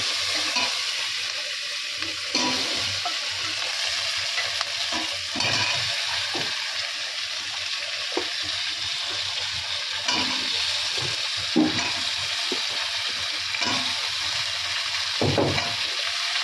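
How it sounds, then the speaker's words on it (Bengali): Panch phoron and a chili frying in oil after fish has been fried, a continuous moderate sizzle with repeated scrapes and taps of a spatula stirring in the pan. "তেলের মধ্যে পাঁচ ফোড়ন এক লঙ্কা দিয়ে দিয়েছি"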